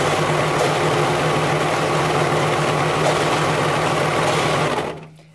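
A serger sewing machine runs at a steady, fast, close buzzing drone for about five seconds, then stops abruptly and leaves near silence; no one speaks.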